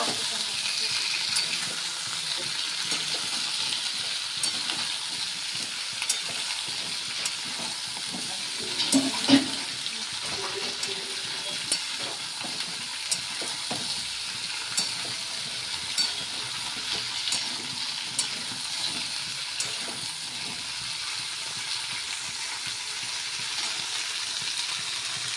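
Dried greens fry in a pan with a continuous close sizzle, broken by frequent stirring clinks and scrapes and one louder clatter partway through.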